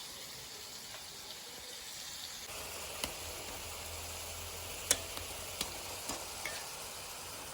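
Masala spices being stirred and fried in a pan in a home kitchen, a faint, steady sizzle broken by a few sharp scraping clicks from the stirring, with no talking.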